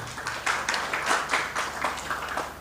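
A congregation at a Christmas church service in Banjarnegara applauds. A moderate crowd of hands claps in a loose, pulsing rhythm, filling the hall steadily at medium loudness.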